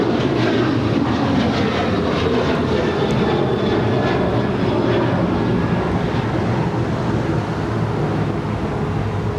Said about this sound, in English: the Qantas A380 making that final turn as she pulls into the gates of Tom Bradley here on the south side